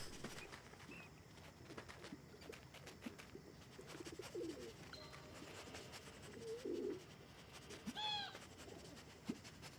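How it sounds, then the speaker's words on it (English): Pigeon cooing in the video game Endling, faint and brief, rising a few times over a low ambient game soundscape with scattered soft clicks and rustles. "Hear the pigeon."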